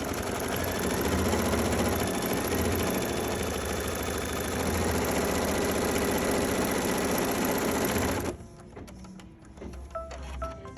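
A tabletop longarm quilting machine runs a fabric-placement outline, giving a steady loud mechanical whir with fast rhythmic stitching pulses for about eight seconds before stopping abruptly into quieter room noise.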